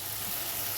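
Water is poured into a hot frying pan with potatoes and spices, a close, steady sizzle that swells into a brief louder burst at the end.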